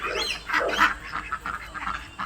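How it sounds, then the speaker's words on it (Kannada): Ducks at a zoo, including Muscovy and Bali ducks, give short raspy quacks and honks in quick irregular bursts, fairly faint against quiet outdoor background. "ನೋಡಿ ಇಲ್ಲಿ ಮಸ್ಕೋವಿ ಡಕ್ ಇದೆ, ಇಲ್ಲಿ ಬಾಲಿ ಡಕ್ ಇದೆ, ಬಾಲಿದಿಂದ ತಗೊಬಂದಿರೋದು."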